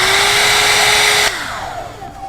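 A Philips StyleCare hair styler blows steadily at full power, then is switched off and its motor whines down. A falling tone fades away over about a second, loud and close.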